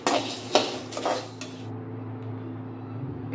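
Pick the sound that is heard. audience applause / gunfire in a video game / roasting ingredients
roasting ingredients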